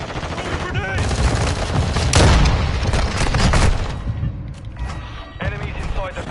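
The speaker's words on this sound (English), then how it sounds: "Throwing grenade!" Grenade blast and rattling gunfire in Modern Warfare 2: dense close shots with a heavy boom in the middle, under talk and game announcer voices.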